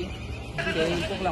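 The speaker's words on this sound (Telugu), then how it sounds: "డాడీ గొర్రెలు వచ్చారు." A sheep bleats briefly at Nehru Zoological Park, a short wavering cry amid outdoor background murmur and nearby voices.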